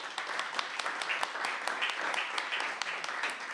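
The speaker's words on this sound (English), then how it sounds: "can we have a round of applause for all of us," A seated audience at a Stories from the Sofa storytelling evening gives a steady round of applause for the storytellers, dense overlapping claps at even loudness throughout, close and sustained.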